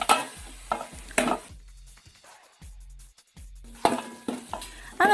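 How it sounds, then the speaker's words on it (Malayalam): A spoon stirs tomatoes into frying masala for egg biryani in a pan, giving repeated scraping clinks against the metal in bursts separated by brief pauses, with a soft sizzle underneath. "ഈ ടൊമാറ്റോ ഇതിൻ്റെ ഒപ്പം നന്നായിട്ട് മെൽറ്റായി വരുന്നത് വരെ നമുക്ക് നന്നായിട്ട് ഇളക്കി യോജിപ്പിക്കാം."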